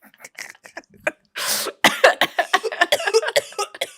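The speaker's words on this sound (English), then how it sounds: "That's like a wheezy ass cough" A wheezy, raspy cough bursts out in a series of short hacking fits, close and loud, followed by a run of rapid breathy coughs and gasps.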